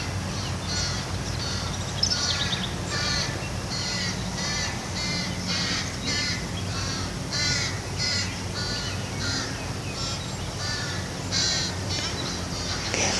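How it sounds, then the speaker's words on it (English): Crows caw over and over in a steady, uneven series of harsh calls. The calls carry clearly outdoors against a constant low background hum, with no talking. "There's the crows."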